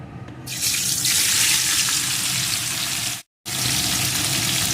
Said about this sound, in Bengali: এখন ফুলকপিটা একটু সুন্দর করে এইভাবে ভেজে নেব